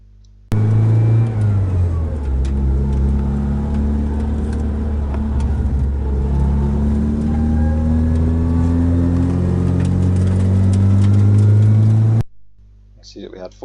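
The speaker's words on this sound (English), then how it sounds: "See that we had full throttle and a gear change" A car's engine at full throttle during a trackday lap, a loud sustained engine roar rising in pitch, dropping briefly at a gear change, then climbing again before cutting off near the end.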